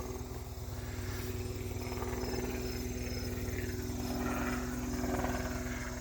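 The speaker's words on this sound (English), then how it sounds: "Now we got a helicopter." A helicopter passes overhead above a garden, its steady rotor chop loud and continuous with a droning engine hum, and no one speaking.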